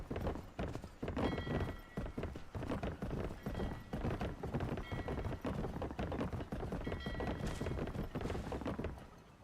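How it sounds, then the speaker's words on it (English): Steady, rhythmic hoofbeats of a horse galloping in Skyrim, loud and continuous, with brief faint speech at points. "I just take off on the horse."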